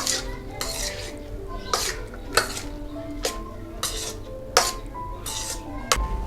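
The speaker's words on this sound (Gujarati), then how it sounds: "આવી રીતે ભાત નાખી અને આવી રીતે હલાવવાનું અને મિક્સ કરવાનું" A spoon scrapes and clinks against a pan while cooked rice is stirred and mixed into lemon rice, with repeated metallic knocks at an irregular, steady pace throughout, close and moderately loud.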